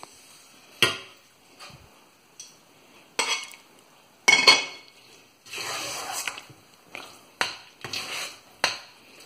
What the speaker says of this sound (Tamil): இப்போ மாம்பழத்தை போட்டு நம்ம கிண்டி ஒரு 2 மினிட்ஸில் நம்ம எடுத்துடலாம்.